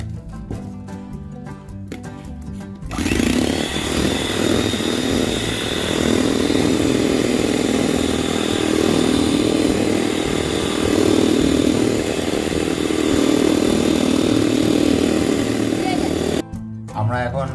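An electric mixer beats sugar and eggs for a homemade Christmas soft cake batter, a loud continuous buzzing whir that starts after a few seconds of talking and runs steadily for about thirteen seconds before cutting off.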